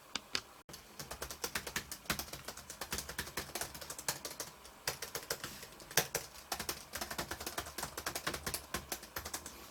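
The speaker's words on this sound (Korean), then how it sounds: "제가 한번 타이핑 한번 해보겠습니다." Rapid, uneven clatter of fingers typing on an ASUS UX390UA laptop keyboard, close and fairly loud, with short pauses between bursts of keystrokes.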